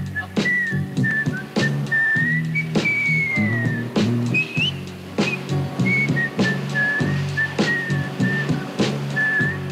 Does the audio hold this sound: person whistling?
yes